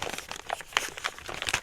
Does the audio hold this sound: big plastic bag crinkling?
yes